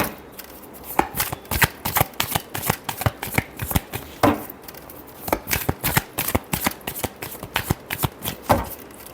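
Tarot cards shuffled by hand nearby, producing a continuous run of sharp papery slaps and flutters in fast uneven bursts, loud and close with no voices.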